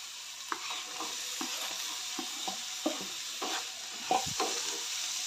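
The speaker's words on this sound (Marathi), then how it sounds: "चांगलं व्यवस्थित मिक्स करून चांगलं परतून घ्यायचं आहे" Ridge gourd with tomato and onion being stirred and fried in a pan, a steady sizzle under repeated scrapes and clinks of the spoon against the pan, close by with no talking.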